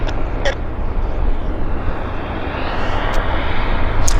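An Air Canada airliner starts its engines after pushback on the south line at Vancouver airport, a loud, steady jet roar rising gradually with no talking.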